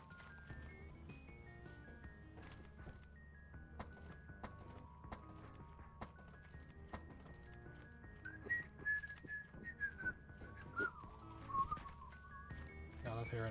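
Someone whistles a tune in short, clear notes, fairly close, with faint tapping and shuffling underneath.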